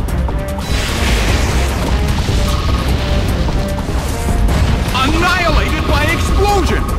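Explosion move going off in a Pokemon Battle Revolution video game battle: a loud, sustained crashing roar of blast noise with rumbling debris and bright synthetic tones sweeping in near the end, with no pause throughout.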